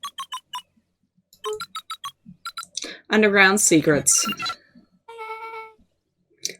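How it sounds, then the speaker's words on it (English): Keypad buttons are pressed in the Beacon Pines video game, producing a quick series of short, bright electronic beeps in two runs. Narration and dialogue follow afterward. "Luca cracked his knuckles and entered the letters into the keypad."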